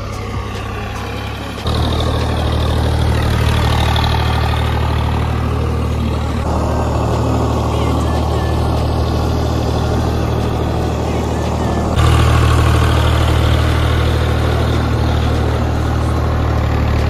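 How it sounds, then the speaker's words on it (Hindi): A farm tractor's engine idles nearby with a steady, rumbling low drone that runs unbroken throughout, shifting slightly in level a couple of times but never stopping. "गाइस ये सामने ट्रैक्टर है।"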